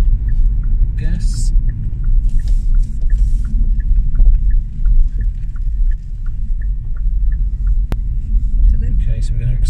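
A Hyundai Kona Electric coasting off the throttle at about 30 mph, heard as a steady low road rumble and cabin hum throughout, with faint intermittent ticks and a brief higher whine over it.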